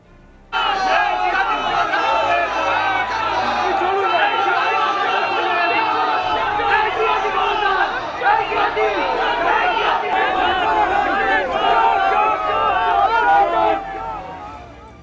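A large crowd shouts slogans of "chor" (thief) at outgoing chief minister Mamata Banerjee as she arrives at the High Court. The chanting is loud, dense and continuous, with many voices blending into a steady roar for about fourteen seconds.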